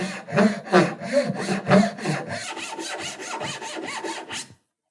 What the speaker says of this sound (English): now I'm going to saw down my layout line